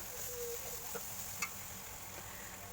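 Garlic paste frying in a pan for chicken biryani gives a soft, steady sizzle with a couple of faint clicks, heard alone and fairly quiet.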